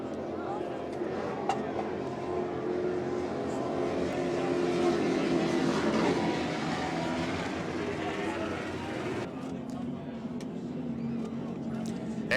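A racing powerboat fitted with Chief engines at a Space Coast race roars steadily and loudly for several seconds, a continuous broad engine drone with a commentator talking over it.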